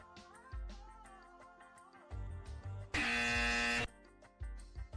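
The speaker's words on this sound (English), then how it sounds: "Incorrect buzzer plays." An incorrect-answer buzzer blares once for about a second, harsh, loud and flat, amid sparse electronic tones and thumps.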